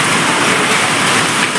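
Heavy rain pouring down outdoors, a loud, dense, unbroken hiss of water that fills the whole moment without pause, close by and with no voices over it.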